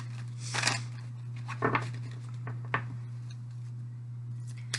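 A deck of tarot cards is shuffled during a reading, heard as a few faint, brief papery riffles spread over the moment, set against a steady low electrical hum in a quiet room.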